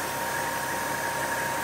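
A payloader engine idles in a steady, even drone, close and constant, with no talk.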